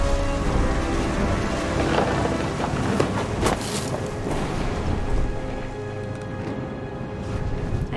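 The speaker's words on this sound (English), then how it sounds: "The thunder sounded much too close and full of angry power." Steady rain with low rolling thunder during a thunderstorm in the game What Remains of Edith Finch, a continuous wash of drops with a few louder rumbles and cracks, no talk.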